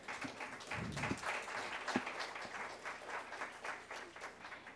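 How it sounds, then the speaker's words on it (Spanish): Faint, steady audience applause at the inauguration of the Hult Prize at UARM. Scattered claps blend into a soft wash that lasts a few seconds without speech. "Quizás con un fuerte voto de aplausos"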